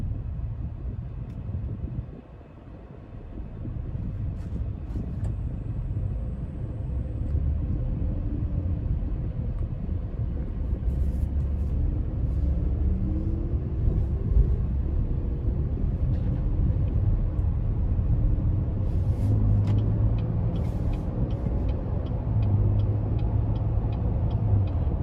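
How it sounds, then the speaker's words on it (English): A 2020 Chevy Traverse Premier Redline with a V6 engine restarts after an automatic stop-start, its low engine rumble rising and then holding steady through the cabin on a hot day, with no talk. "I'm just gonna cut the AC back on, and then that'll cut the car back on"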